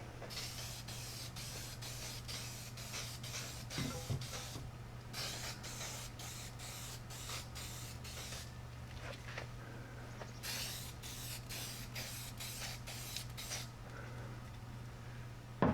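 Spray paint hisses in repeated short bursts with brief pauses, laying the last coat on a clutch plate part from a John Deere MC crawler, close and fairly quiet over a steady low hum.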